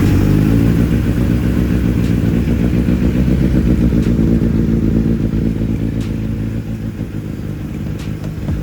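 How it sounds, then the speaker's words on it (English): A Kawasaki Z900 motorcycle runs up close in a workshop after a service, its exhaust throbbing with a deep, steady pulsing note that stays loud and gradually eases off slightly toward the end. "let's hear that exhaust note"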